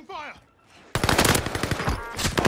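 Rapid bursts of automatic gunfire from a Warzone match using a Kar98 rifle, loud and dense for most of the stretch after a brief quieter moment with a voice at the start.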